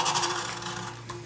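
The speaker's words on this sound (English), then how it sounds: "it's the 2-inch gouge, it's doing pretty good" A two-inch gouge scrapes and shaves wood while carving a kuksa bowl, giving short, close rasping strokes in a quick rhythm at first, then a softer steady scrape.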